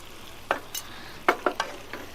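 A spoon stirring milk and cashew paste into fried pointed gourd in a pan, heard as about five short scraping strokes over a faint background sizzle, close and with no talk.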